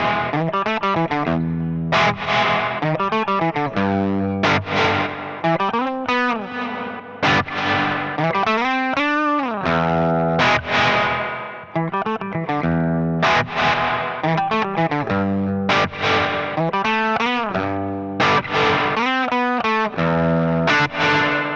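Electric guitar run through a Red Panda Context reverb pedal with ducking, playing loud, distorted chords and notes that swell and pulse rhythmically, the wet reverb tail dipping under each attack and blooming between phrases, with no talking.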